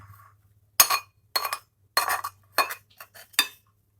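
A spoon stirring waffle batter in a bowl, one of three colored and flavored batters, gives six sharp clinking strikes against the bowl in an uneven rhythm, close and fairly loud, with near silence between them.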